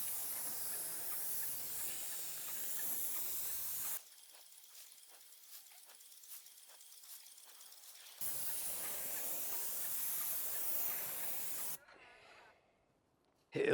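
A spray gun paints a metal door that is masked off on its sides. Faint, steady hissing bursts come in long passes separated by quieter stretches, and it ends in near silence.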